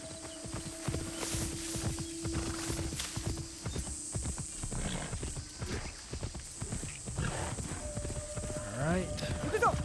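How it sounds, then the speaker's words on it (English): Hoofbeats clip-clop steadily from a horse in Assassin's Creed Shadows, with a brief whinny near the end, all under continuous talking and background game ambience. "Horse."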